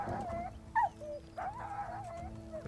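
A dog whimpers in Kingdom Come: Deliverance, a few high, wavering whines and yelps spread over a couple of seconds, close and fairly quiet against a low background hum.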